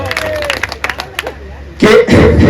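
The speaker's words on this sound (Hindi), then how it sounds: "चल ताली बजाओ।" An audience breaks into a loud, dense wave of clapping and crowd noise on request, following a stretch of someone talking over a quiet hall.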